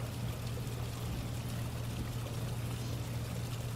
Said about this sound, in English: bubbling water splashing on the rocks, this sound relaxes you more and more.